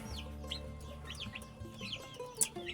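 Several chickens in a coop cluck and chirp softly nearby, scattered short calls over a low background hum, with no talking.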